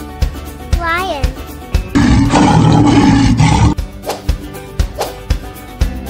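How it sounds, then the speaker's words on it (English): A lion roars in a loud, sustained burst of nearly two seconds between short spoken words and musical notes, with a voice heard before and after. "Lion."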